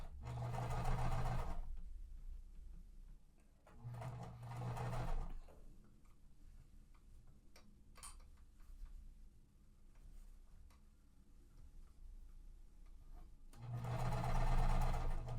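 A sewing machine stitching quilt pieces runs in three loud bursts of rapid mechanical stitching, separated by quieter stretches with soft clicks and handling noises.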